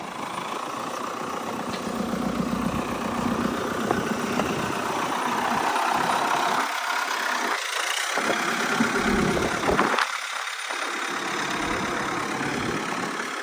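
The engine of an MTZ 1025.2 tractor idles steadily nearby in snowy conditions, a constant low rumble with slight surges in pitch and loudness.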